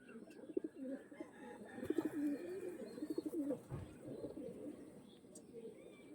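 Pigeons of show breeds cooing in a loft, repeated low throaty coos with faint chirps, under someone talking nearby.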